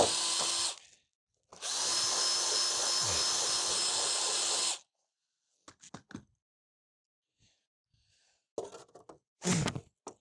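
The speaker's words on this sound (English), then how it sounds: "And then I'll just get my drill" A power drill whines loudly for a short burst, stops, then runs again for several seconds drilling a 6.5mm hole in 1991 Yamaha FZR 600 motorcycle bodywork, followed by faint clicks, taps and handling noises.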